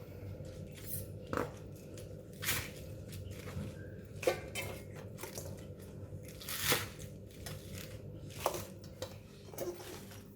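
A knife chops lettuce and crab balls on a board, with irregular sharp clicks, soft crunches and a few clattering knocks of utensils against dishes, close and fairly quiet.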